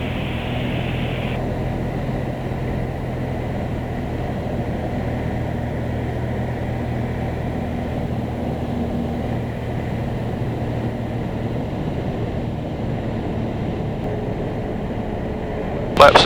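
A Jabiru light aircraft drones steadily in flight, its engine and propeller producing a constant loud hum inside the cabin, with a brief burst near the end and no voices.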